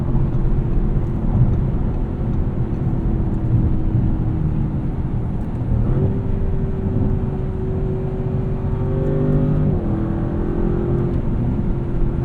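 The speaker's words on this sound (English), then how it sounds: "But you rev this engine out and it pulls like crazy." A 2024 Audi RS7's engine drones loudly and steadily inside the cabin, its pitch climbing as it revs and accelerates, then shifting after a gear change.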